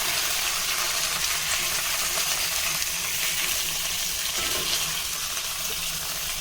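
Stuffed brinjals dropped into a hot pan of oil with cumin and curry leaves, giving a loud, steady, close sizzle that hisses evenly throughout without pause.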